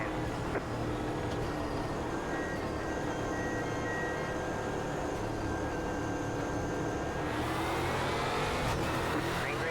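A Euro NASCAR stock car engine in the iRacing sim drones steadily and loud throughout, a dense continuous roar that brightens and climbs near the end as revs rise.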